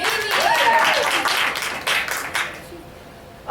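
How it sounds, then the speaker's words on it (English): Audience applause for a contestant at a fall impromptu speech contest, a short burst of clapping that swells then thins out over a few seconds, with a voice briefly audible early on. "We get a round of applause for Jamie."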